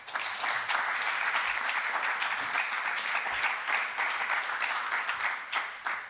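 Sustained applause from a conference audience for a panel at an EU–Africa electoral stakeholders event, a steady dense wash of clapping across the whole stretch with no talk over it.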